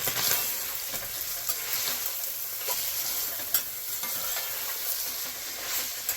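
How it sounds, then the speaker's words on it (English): Lasagna soup ingredients sizzle in a pot while being stirred, a continuous bright crackling fry with occasional soft scrapes of the spoon, close and steady with no talk. "I'm going to go ahead and just stir this to get everything incorporated."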